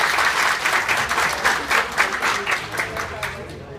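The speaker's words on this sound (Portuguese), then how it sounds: "salva de palmas." Symposium attendees clap as a speaker is called up, a lively round of applause with rhythmic pulses of many hands, loud at first and gradually tapering off.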